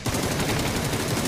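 Dense, loud gunfire in the PUBG video game, a continuous barrage of rapid overlapping shots that fills the entire short moment without any pause.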